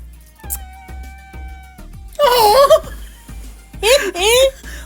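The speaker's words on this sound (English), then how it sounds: "The cat's just turned up, to join in, as is tradition." A cat meows twice in a home while someone works on a quilt-themed journal, the first call drawn out and wavering, the second a shorter pair of rising mews, close and fairly loud over a faint background.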